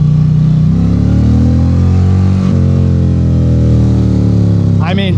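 Liquid-cooled V-twin of a 2025 Indian Roadmaster PowerPlus Dark Horse revving through its stock exhaust, loud and close, with the pitch climbing through a rev and settling back, as someone speaks briefly near the end.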